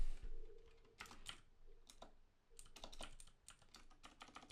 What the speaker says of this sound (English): If I type a comment on Facebook here,